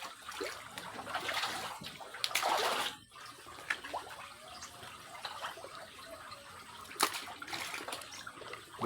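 Water splashing and churning in a pond as catfish surface to feed, soft irregular sloshes and trickles at close range, with a brief louder splash midway and no talking.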